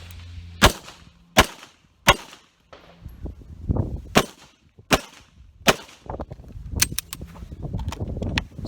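An M9 pistol fires during a qualification course of fire at a range. Sharp, loud single shots come at uneven intervals, about eight in all, with some clattering handling noise between them.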